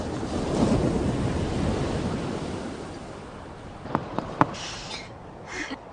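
Ocean waves roll onto a beach in a steady, loud wash of surf that fades slightly. Wind rumbles over the microphone, and a few brief clicks come near the end.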